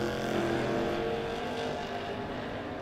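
Drag race cars, a Vega Wagon against a Camaro, roar loudly at a No Box 660 shootout, a sustained heavy engine drone under open-air track noise.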